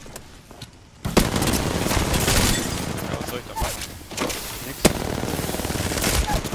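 Gunfire in the battle royale shooter Apex Legends, loud sharp bursts and single shots recurring across the stretch while a player talks over it.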